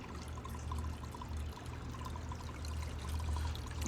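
Water drains and trickles steadily through a wormiponics tower filled with lava rocks and sand, a continuous close pouring sound with a low rumble beneath.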